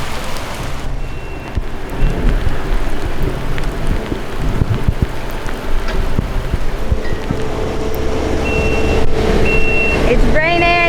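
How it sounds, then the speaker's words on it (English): A heavy spring rain downpour falls near a home where a pond is being dug, a dense steady hiss of rain hitting surfaces with some low rumbling and a few faint beeps late on. "It's raining."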